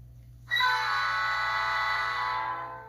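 An HO scale model train engine sounds a horn-like sustained tone that starts abruptly, holds for about two seconds and then fades, over a low background hum.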